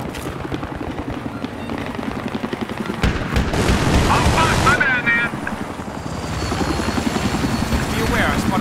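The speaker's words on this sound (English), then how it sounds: "hostile helicopter" Rotor chop from a hostile helicopter in the Battlefield 3 video game thrums continuously beneath gunfire and explosions, with radio-style voices speaking over the battle noise.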